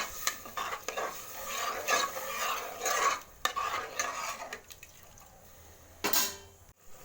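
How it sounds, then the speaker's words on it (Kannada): Rice soaked and mixed with water being stirred in a pot for sweet corn pulao, heard as close, irregular scraping and sloshing strokes with a spoon, broken by short pauses and one sharp clink near the end. "ಚೆನ್ನಾಗಿ ತಿರ್ಸಿ."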